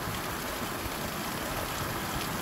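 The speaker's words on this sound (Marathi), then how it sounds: "मुसळधार पावसाची सुरुवात झालेली आहे" Heavy rain pours down in Gevrai taluka, a dense, even hiss of falling water that stays constant throughout without any pauses.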